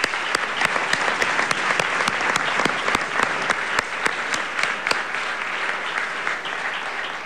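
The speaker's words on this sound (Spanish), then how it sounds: "Por eso yo pido a todos ustedes un aplauso" Audience applauds at a solemn session marking the 478th anniversary of the founding of Lima, sustained dense clapping in a large hall with some sharper individual claps standing out, no speech.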